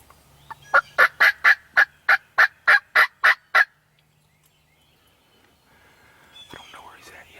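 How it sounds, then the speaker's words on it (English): A wild Tennessee turkey gobbler gobbles on a spring youth hunt, a rapid string of about ten loud, clear rattling pulses close by, followed by quiet woods and faint movement. "Because he gobbled."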